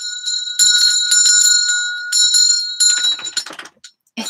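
A handheld bell rung loudly and repeatedly indoors, its bright sustained ringing tones struck several times in succession and then fading into a few quieter, rattling strokes.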